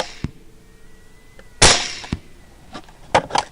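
Several sharp gunshots fired at a boar on a nighttime thermal hog hunt: one crack, then a loud blast, then a quick follow-up pair, close and loud with brief echoing tails and no talking.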